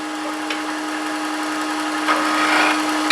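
A wood lathe turns a box while a round nose scraper works the inside, giving a steady motor hum under a hissing scrape that swells in short bursts toward the end.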